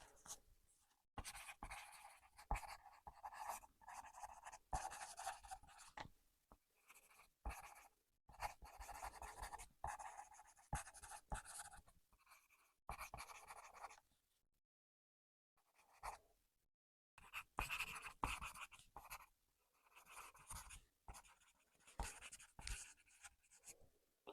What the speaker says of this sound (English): just let me take a few notes in my chart just from what I heard from the breathing test there